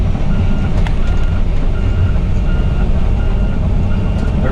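Volvo EC200E excavator climbing a gravel pile, its heavy diesel rumble loud and continuous throughout with faint clanks and a brief beep-like tone over the top.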